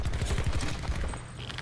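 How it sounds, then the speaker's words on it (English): Rapid, dense bursts of fire shotgun shots in the video game Black Ops 4, a rolling string of heavy booming reports that runs continuously and loudly, fading slightly toward the end. "I'm just running a fire shotgun."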